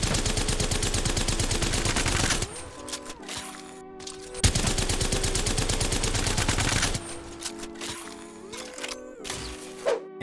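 The Havoc energy rifle fires in Apex Legends, with two long, sustained automatic bursts, each followed by a stretch of quieter in-game sounds and clatter, loud and close.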